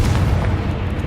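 Confringo fire blast spell in the video game Hogwarts Legacy, a brief loud booming burst with deep rumbling low end, close and continuous.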